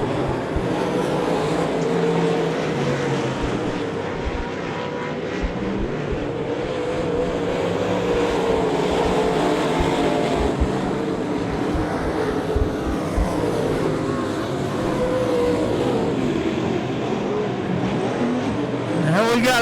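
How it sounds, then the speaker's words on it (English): Race cars running laps on a speedway oval, a continuous roaring engine drone that holds steady throughout, heard from the stands with a distant, washed-out quality. "We're here coming up on some more lap cars."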